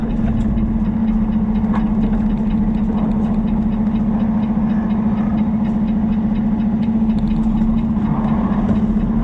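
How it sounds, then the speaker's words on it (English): A box truck engine idles steadily while parking in a lot, a constant close low hum with a strong, even tone and faint background clatter. "And box truck parking in here."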